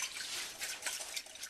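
Warmed stock is poured into a pot of chicken stew, a soft steady splashing stream of liquid heard close up and fairly quiet, without speech.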